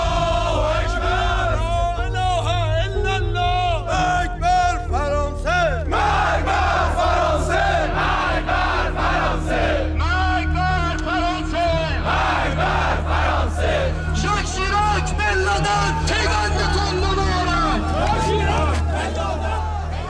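A crowd of around a hundred Iranian regime militiamen chants and shouts in unison at a protest, loud rhythmic massed voices with a steady low drone beneath, continuous and close throughout.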